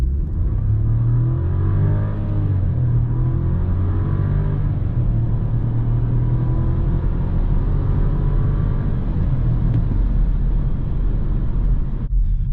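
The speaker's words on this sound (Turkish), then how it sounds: "Evet şöyle Arnavut kaldırımlı bir yoldayız." A VW Taigo 1.0 TSI R-Line with DSG drives over a cobblestone road, heard from inside as a steady loud engine and road rumble with a low, rising engine tone.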